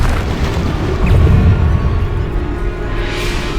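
Bombarda explosion spell in the video game Hogwarts Legacy: a loud, deep booming blast that swells and rumbles for a few seconds, then ends with a rising whooshing hiss.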